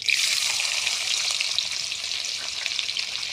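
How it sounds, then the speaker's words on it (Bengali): Bay leaf and chopped onion fry in hot fish oil with a loud, steady, dense sizzle that holds evenly throughout, with faint stirring beneath and no voices. "প্রথমে দিয়ে দেব মাছের তেলেতে তেজপাতা, তারপর দিয়ে দেব পেঁয়াজ কুচি।"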